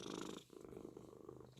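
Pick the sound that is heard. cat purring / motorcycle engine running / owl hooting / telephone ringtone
cat purring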